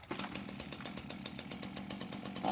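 A new Ryobi 18-inch (450 mm) petrol chainsaw runs with rapid, regular engine pulses, close and moderately loud, rising at the end as the throttle opens, with no talk.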